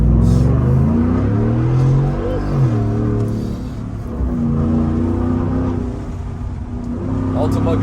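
A Ford F150 with a 5.0 V8 revs loudly and steadily in heavy traffic, its deep engine roar swelling and dipping up close, with people talking over it throughout.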